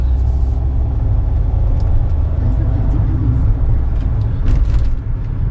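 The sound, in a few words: Kia Ray car driving on a test drive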